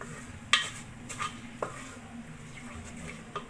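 A spoon stirs blended crayfish into abacha, an African salad, in a bowl, with soft scraping and a few sharp clinks against the side, quiet and close.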